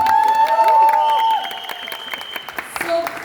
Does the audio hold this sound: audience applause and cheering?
yes